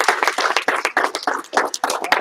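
A group of students in a martial arts class claps together in a brisk, uneven burst of hand claps, close and fairly loud, lasting about two seconds.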